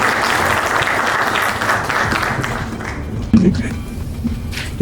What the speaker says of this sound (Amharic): አጨብጭቡ በደንብ።